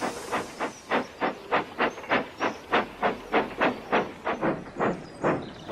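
Steady, rhythmic bursts of steam hiss repeat quickly and evenly, like a steam tram chuffing nearby with no talking.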